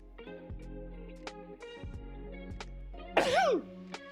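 A single sneeze, sudden and loud, bursting out near the end amid quiet clicks and low background sounds.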